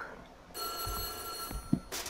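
A telephone rings in the horror video game White Day, with a steady tonal ring running through the middle of the short stretch and a few soft thumps beneath it.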